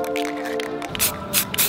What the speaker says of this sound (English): I decided to spray paint all of the bolts black.